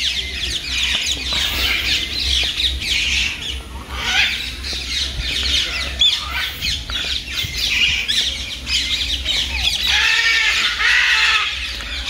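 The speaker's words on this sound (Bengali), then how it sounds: "দেখো ম্যাকোয়া পাখি ডাকছে," A macaw at a zoo deer park gives repeated harsh, raspy squawks over several seconds, fairly loud and near, with some fainter bird calls and background ambience, no speech.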